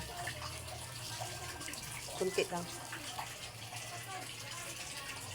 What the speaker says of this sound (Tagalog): Nagdagdag na po ako ng tubig.